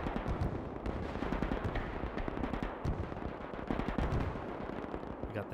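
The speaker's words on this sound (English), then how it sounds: "Oh, that is some heavy machine gun fire right now." Heavy machine gun fire in the WWII strategy game Gates of Hell during a large river-crossing battle, a dense, continuous rattle of rapid bursts mixed with distant booms, steady and fairly loud throughout with no talking.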